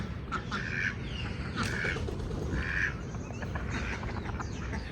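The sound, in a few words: ducks quacking after playing in water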